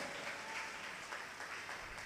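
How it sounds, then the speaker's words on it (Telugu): A church congregation claps loudly during worship, a dense, continuous wash of applause filling the room with no pauses. "గట్టిగా చప్పట్లు కొట్టి గట్టిగా"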